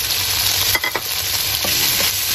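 Tomatoes being stirred in a frying pan with a utensil scraping through them over a steady sizzle, a few distinct scrape strokes close by, no talking.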